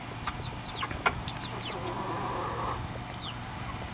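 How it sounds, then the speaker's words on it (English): Backyard hens in a solar-powered coop give a few soft clucks and short chirpy calls over a steady low hum, moderately close and fairly quiet. "I'll give you a shot of the hens here down there"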